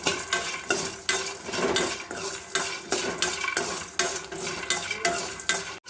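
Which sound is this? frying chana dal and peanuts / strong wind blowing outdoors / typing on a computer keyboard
frying chana dal and peanuts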